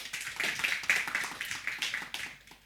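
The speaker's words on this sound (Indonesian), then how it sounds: "Beri tepuk tangan buat Tuhan." A church congregation bursts into applause during a sermon, a dense burst of many hands clapping at close range that swells and then fades away over a couple of seconds.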